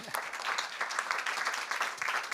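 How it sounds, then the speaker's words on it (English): A room full of people claps steadily, a dense, even round of applause from start to finish. "Let's give them an applause."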